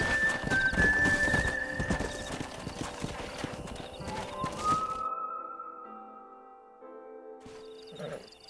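Horses in Red Dead Redemption clop along in a dense trotting rhythm for several seconds, with a loud whinny rising over the hooves before they fade to near silence and a short snort at the end.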